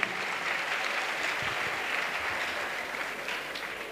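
A congregation at an evangelistic crusade applauding, with dense sustained clapping from a large crowd that fills the space evenly and tapers slightly toward the end.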